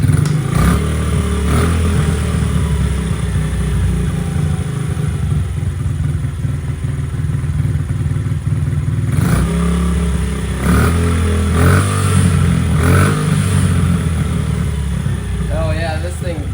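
A small pit bike engine, just after a carburetor clean, runs continuously at a rough idle, loud and close, with occasional surges and a person talking over it.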